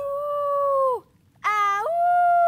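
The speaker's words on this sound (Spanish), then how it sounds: "Y entonces escucha a su amiga, la señora lobo." In a children's cartoon, a wolf gives a clean, long, sustained howl. After a short pause it lets out a second howl that rises and wavers before it settles. The howls are close and loud, with no talking.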